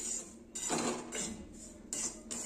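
Ragi flour is roasted in a pan and stirred, with repeated scraping and clinking of a spoon against the pan in several close bursts over a low dry hiss.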